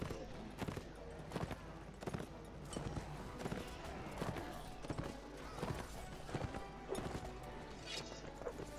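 Rhythmic horse hoof clip-clops from a video game set in Rohan, a steady galloping beat of quiet hits running throughout over a dense, faint game soundscape.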